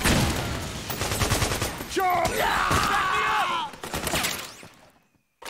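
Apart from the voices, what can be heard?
gunfire in the video game Metal Gear Solid 4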